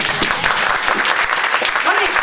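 An indoor audience at a book talk applauds a secondary school teacher in Kwun Tong, a close, steady round of clapping from a modest crowd with some voices mixed in.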